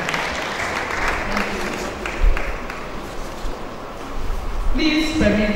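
Audience at a university matriculation ceremony applauds Chief Victor Efiok, a steady wash of clapping from a large crowd that swells briefly midway and continues throughout, with a faint tonal sound near the end.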